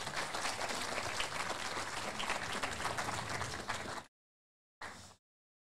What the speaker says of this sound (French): j'en profite parce qu'il est sur scène pour que vous applaudissiez bien fort Monsieur Pascal Brault.